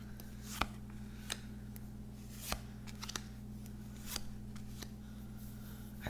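A tarot deck being shuffled by hand, soft riffling and slapping of cards in short bursts over a quiet background hum, close and faint.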